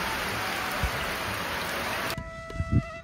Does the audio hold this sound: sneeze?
no